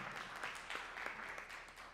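Faint, distant applause from an audience at a school coffee-with-the-principal gathering, a soft patter of scattered claps over about two seconds.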